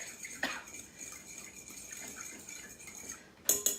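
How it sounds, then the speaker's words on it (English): Olive oil salad dressing beaten with a fork, giving light, quick metallic clinks and scraping against a bowl at close range, ending with a couple of sharper taps. "So we just whisk this up with our fork."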